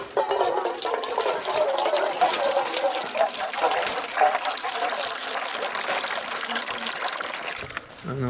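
Water poured into a guinea fowl held as live bait in a wire cage, a steady close splashing trickle running for several seconds, with some faint outdoor noise around it.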